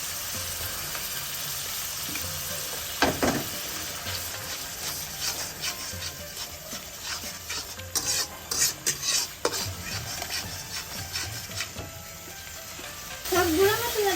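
Kofta curry spices and ginger garlic paste sauté in a pan, a soft sizzle under repeated rubbing scrapes of a wooden spoon stirring and pressing the mixture, close and steady with several sharper knocks.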